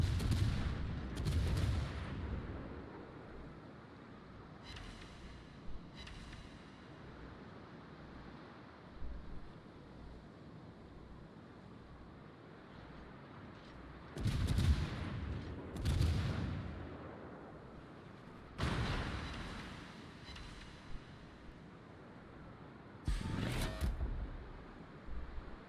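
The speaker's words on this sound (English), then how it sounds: "All stations, concentrate fire on the target." Artillery fire on a target in a video game: several heavy booming blasts come in scattered bursts with long gaps, over a low rumbling background like wind or surf, with no talk.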